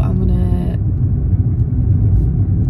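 A car drives along the road with a low steady rumble of engine and tyres up close inside the cabin, while a person talks over it at first.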